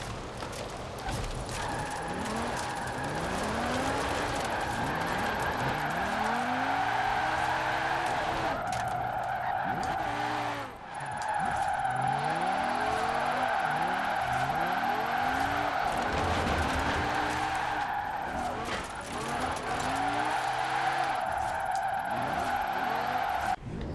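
An Audi RS6 on track tires drifting sideways in Forza Horizon 4, its engine holding a steady loud drone under long, continuous tire squeal that swoops and wavers, with brief breaks as the slide resets.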